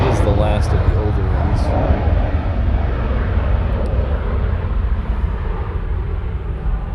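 A heavy airliner at Honolulu airport rumbles loudly and steadily with a broad roar that fades slightly as it passes. An indistinct voice talks underneath early on.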